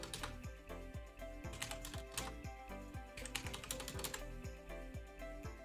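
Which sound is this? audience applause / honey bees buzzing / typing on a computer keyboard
typing on a computer keyboard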